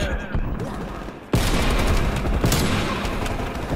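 Sniper rifle fire in the video game Call of Duty: Cold War, with loud, sharp shot bursts cracking over continuous dense battle noise.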